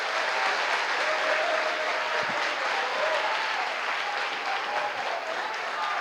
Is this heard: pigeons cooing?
no